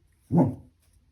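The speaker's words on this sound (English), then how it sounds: "We also have a dog barking in here." A single short bark from a dog indoors, fairly close and moderately loud, standing alone against a quiet background.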